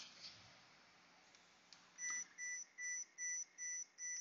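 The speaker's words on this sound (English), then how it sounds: "You can hear the alarm of the car running." A string of six short, high electronic beeps sounds in an even rhythm, moderately near, after a stretch of quiet background: the alarm of a 2012 Mercedes S550 4Matic during Airmatic air suspension diagnosis.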